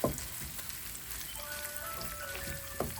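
Onions frying in oil for Trini-style cod fish, a continuous crackling sizzle like light rain, close and moderately quiet, with a faint tonal hum and brief clatters of a utensil.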